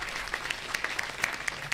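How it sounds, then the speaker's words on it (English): Applause from the audience for the winners at a moot court competition's closing ceremony, a fairly faint, steady patter of many clapping hands. "Let us have a huge round of applause once again for everyone that won"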